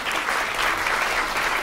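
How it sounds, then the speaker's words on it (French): An audience at a French academic colloquium applauds as Professor Hubert Ripoll is introduced, a dense, steady wash of many hands clapping that fills the room at an even level throughout, with no voices. "On va l'applaudir, M. Hubert Ripoll."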